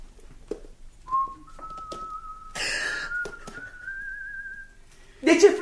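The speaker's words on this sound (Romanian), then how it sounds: "De ce fluieri?" A person whistles a long, steady, gently wavering tone in a stage play, fairly close, with soft shuffling and a few brief noises around it.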